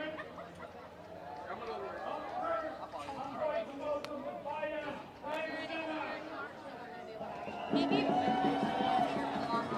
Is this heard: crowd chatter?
yes